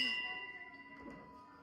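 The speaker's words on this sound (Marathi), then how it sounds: "ring the bell once" A single strike of a service bell at a restaurant counter leaves a bright, steady metallic ring that slowly fades, quiet and alone.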